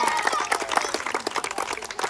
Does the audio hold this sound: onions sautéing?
no